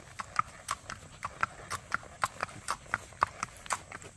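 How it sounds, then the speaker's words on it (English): Hooves clip-clop in a steady, uneven patter as horses run in the background near a blue roan Tennessee Walking gelding. The hoofbeats are moderately distant, with low rumble underneath and no clear talking. "there are horses running in the background right now"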